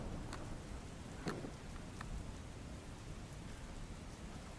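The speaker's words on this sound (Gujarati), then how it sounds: "રાજકોટમાં વહેલી સવારથી જ વરસાદ વરસી રહ્યો છે" Heavy rain falls in Rajkot as a steady, low, even hiss throughout, with a few faint taps rising above it and no voices.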